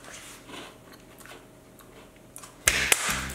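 Someone bites into a crunchy white chocolate chip cookie from KFC: a single loud, sharp crunch near the end after a few quiet seconds of faint room noise.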